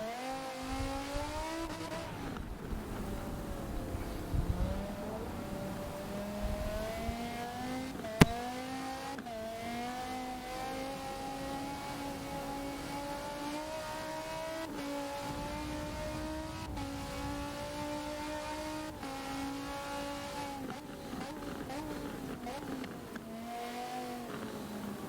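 Hypercar racing engine on a wet Silverstone circuit in a racing video game, droning steadily at high revs through corners with pitch rising and falling across gear changes, loud and continuous with no talk.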